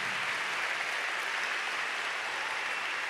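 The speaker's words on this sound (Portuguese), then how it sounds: "Pode aplaudir ao Senhor" A church congregation at a revival night service claps together in a dense, steady wash of applause that fills the space for the whole stretch, with no voices standing out.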